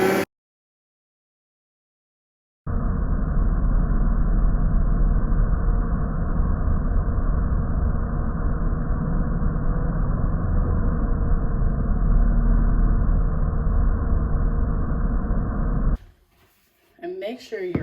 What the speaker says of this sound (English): So now we're going to knead this for 7 minutes on high on a Bosch.